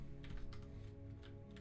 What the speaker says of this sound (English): She's typing it.